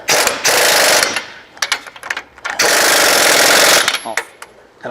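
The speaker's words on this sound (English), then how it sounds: "alright, we run these nuts down" Nuts are run down with a pneumatic impact wrench on a Peterbilt 389 air ride steer axle kit, in two loud rattling bursts with shorter taps between them, close by.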